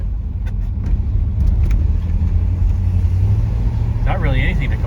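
A 1966 Pontiac Catalina coupe with a 389 V8 cruises through a quiet subdivision, its engine a smooth, low, steady rumble heard from inside the cabin beneath someone talking.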